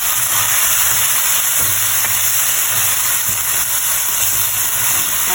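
Chicken varuval frying in a pan with garam masala, coriander and chilli powder on medium heat, a loud, steady broadband hiss and sizzle running unbroken throughout with faint low bumps underneath.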